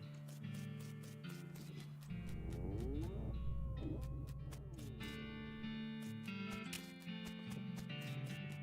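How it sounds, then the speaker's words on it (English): Distorted, demonic-sounding cattle moos in the West of Loathing video game, a long drawn-out bellow over a steady game music background, moderately loud and without speech. "Why do I hear demonic mooing?"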